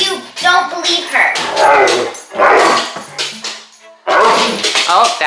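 A dog barks on command indoors, a couple of sharp barks close by amid several people talking over and around them.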